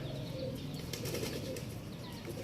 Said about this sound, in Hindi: ये ऊपर कबूतर उड़ रहे हैं